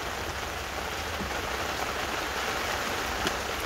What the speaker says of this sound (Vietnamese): Mưa này lớn à.